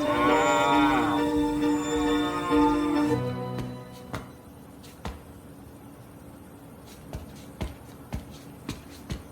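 Cattle moo in a long, loud, close call for about three seconds, then a quieter stretch follows with faint scattered clicks and shuffling.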